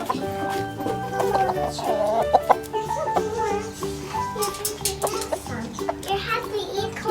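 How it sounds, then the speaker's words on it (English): Chickens cluck repeatedly at a petting zoo while children and adults talk nearby. "There's more chickens, Henley."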